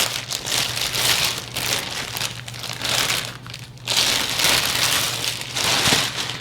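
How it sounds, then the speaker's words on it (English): Loud, continuous crinkling and rustling of plastic packaging as an LED bathroom light fixture, packed with screws and a wiring harness, is unwrapped close up, coming in surges with brief pauses and a low steady hum beneath. "We got this light here, and let's unwrap it real quick."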